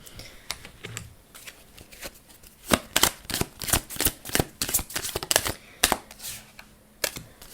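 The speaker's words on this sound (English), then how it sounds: "I'm getting some message cards, and then I'll go through the rest of these cards as well" A deck of message cards is shuffled and handled up close, giving quick, irregular bursts of crisp flicking and riffling clatter with short pauses between them, and no voices.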